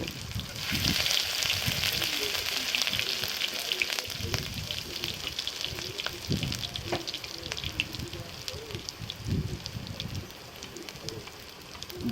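Ginger sizzles in oil left over from frying potatoes and paneer, a steady soft crackle with occasional spatters and stirring scrapes, fairly quiet, heard alongside faint bird cooing in the background.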